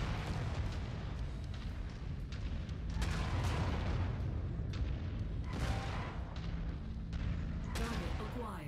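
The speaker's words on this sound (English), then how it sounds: "what the hell is shooting me already?" Video game gunfire aimed at the player, dense and continuous, with repeated sharp shots and booms layered over a loud, constant din of battle.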